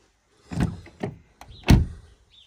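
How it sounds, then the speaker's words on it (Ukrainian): On a DS 3 Crossback E-Tense electric car, the keyless-entry door handles motor outward in a few short mechanical whirs and clunks, close by and alone, with brief quiet gaps between them. "Коли підходите до авто, автомобіль спрацьовує безключовий доступ і ручки виїжджають."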